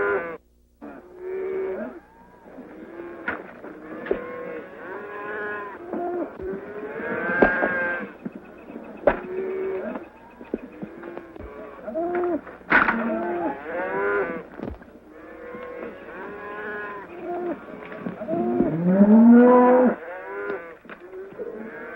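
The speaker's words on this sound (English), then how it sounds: "Here comes the cattle." A herd of cattle moving through an open range in a 1935 Western, with repeated loud, close lowing moos overlapping one another and a few drawn-out calls rising near the end.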